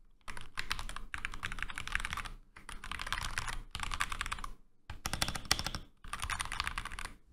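Mechanical typing on an FL Sports CMK99 keyboard with TTC Goldpink V2 switches: bursts of quick, crisp clacks in dense runs, separated by brief pauses, close and clear with no voices.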